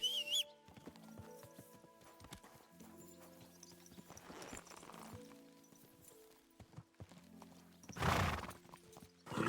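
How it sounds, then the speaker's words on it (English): Horse hooves clip-clopping along with a loud neigh near the end, from the medieval game Kingdom Come Deliverance II, steady trotting steps under faint game ambience. "Let's ride. My horse."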